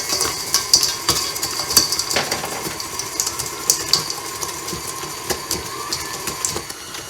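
An electric stand mixer churns chocolate chip cookie dough, producing a steady motor whir with rhythmic knocking and clunks as the dough turns, close and continuous with no talk.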